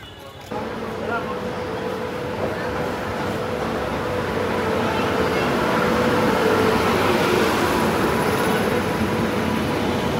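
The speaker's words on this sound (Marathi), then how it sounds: "आपली ट्रेन आली आणि अशी गर्दी होत आहे इथे" A train rumbling into a station, steady and heavy, under a busy crowd murmur and voices nearby.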